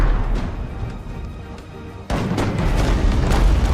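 Ship cannon fire in the naval game Abandon Ship, aimed at an enemy vessel: a low background rumble, then one sudden deep boom followed by a sustained, rumbling roar.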